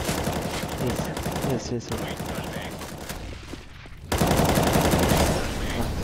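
Rapid bursts of gunfire in the CS:GO video game, shots fired into the air, loud and dense with a brief lull before a heavier volley resumes; a voice speaks briefly over the shooting.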